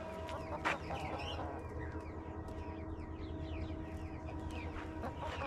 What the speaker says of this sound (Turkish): Tavuklarımız bu şekilde.